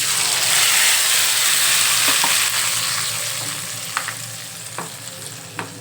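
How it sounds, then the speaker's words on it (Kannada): Paste of ground mustard seed and cumin frying in hot oil, a steady broad sizzle that slowly eases off, with a few sharp spatter pops toward the end and no talking. "ಸಾಸಿವೆ ಜೀರಿಗೆ ಹಾಕ್ಕೊಂಡು ಇದನ್ನು ರುಬ್ಕೊಂಡಿದ್ದು ಎಣ್ಣೆಗೆ ಹಾಕಿ"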